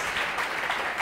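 A church congregation claps together during a worship service, giving a steady wash of applause that holds for about a second with no voices on top.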